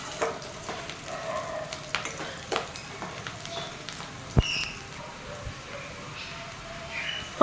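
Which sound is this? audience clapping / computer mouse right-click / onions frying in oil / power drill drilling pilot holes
onions frying in oil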